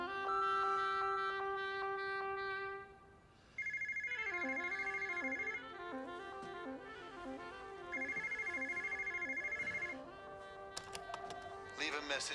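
A telephone rings with an electronic ringtone, rhythmic repeated bursts of warbling tones in two longer cycles, with a preceding tonal chime and a few soft clicks near the end.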